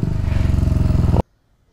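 A KTM Duke 390 motorcycle engine revs hard during a wheelie attempt, a loud, close, pulsing roar held for about a second before cutting off abruptly into near silence.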